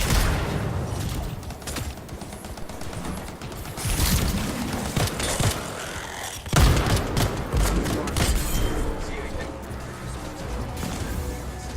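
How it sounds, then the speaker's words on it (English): Explosions and bursts of rapid gunfire in the video game Anthem come as loud, repeated blasts and crackling volleys, with a heavy boom near the middle, all layered over a dense, busy game soundscape. "It'll be a contained explosion."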